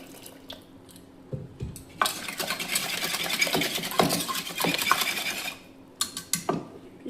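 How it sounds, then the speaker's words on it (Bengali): Hot water is poured into a pot of boiled mung dal in a home kitchen, a steady splashing pour of several seconds framed by clinks of a utensil against the pot. "দেখো এর মধ্যে একটু আমি গরম জল দেবো।"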